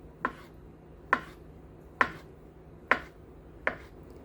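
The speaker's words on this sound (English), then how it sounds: "Once totally peeled, let's slice into slant slice." A knife slices a peeled avocado into slanted pieces on a board, five crisp separate cuts spaced almost a second apart, close and clean with no talking.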